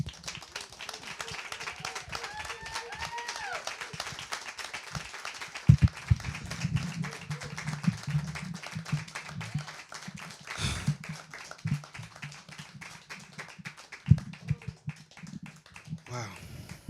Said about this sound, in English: That's the longest applause I've ever gotten.